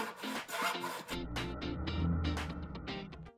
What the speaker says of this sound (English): I find some wood and I start sawing.